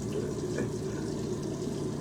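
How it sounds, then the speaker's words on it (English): Tap water running steadily into a sink while someone brushes their teeth, a continuous close splashing hiss with no speech over it. "let me cut the water out right. I'm brushing my teeth."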